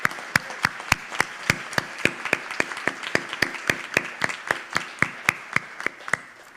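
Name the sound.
applause for graduates' family and friends at commencement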